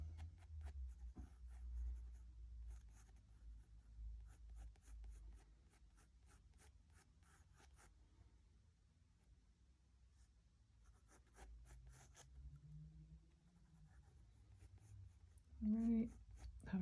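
Pencil strokes scratch across paper during a tonal hand study, soft repeated scribbling rasps in bursts, close and quiet, with a person talking in between.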